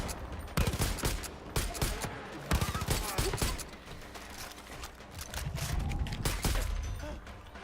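Mortar fire and battle noise from the video game Far Cry 5, with dense, loud bursts of gunfire and explosions rolling on continuously for several seconds.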